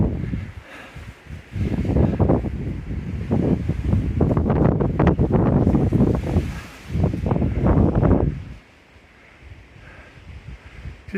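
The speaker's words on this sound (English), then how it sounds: "It's supposed to be 50 to 60 mile an hour winds today, but I think that's gusting." Strong gusting wind roars across the 4,077-foot summit of Colvin in the Adirondacks, a loud, continuous buffeting rush that swells for about eight seconds and then drops to a quieter lull.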